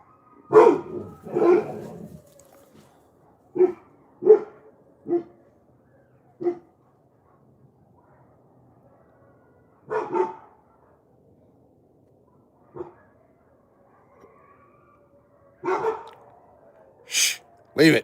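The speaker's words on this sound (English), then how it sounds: "Oh, my dogs are about to go ape shit on these coyotes. They're out in the back." Dogs out back bark at coyotes in scattered loud bursts, some barks doubled, separated by quiet gaps, fairly close by.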